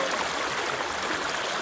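A river stream flows outdoors with a steady, even rush and babble of water, close and continuous, and no voices are heard.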